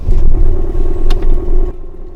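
Diesel van engine idling loudly up close, a deep rumble with a fast, steady ticking clatter on top that fades down near the end.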